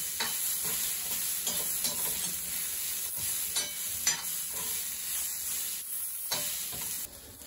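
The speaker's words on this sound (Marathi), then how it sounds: "सुकं खोबरं टाकून घेते भाजायसाठी. व्यवस्थित चांगलं खरपूस भाजून घ्यायचं." Dry coconut roasting in a pan for a Kokan-style crab curry, a steady crackling sizzle with repeated stirring scrapes throughout, close and fairly loud, with no talking.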